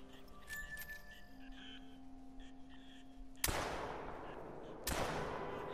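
Two loud, sharp gunshots fired at ducks in theHunter: Call of the Wild, about a second and a half apart, each ringing out over a quiet marsh background with faint bird calls before them.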